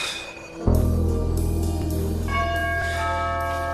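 A bell rings once and keeps sounding, a bright struck tone with long sustained overtones that hum on steadily after the strike, loud and fairly close, with no voices over it.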